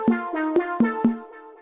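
Plain synth notes without pitch bend automation, Nintendo-style chiptune with reverb: four evenly spaced static tones with bright harmonics and a short reverb tail, played alone with no bend.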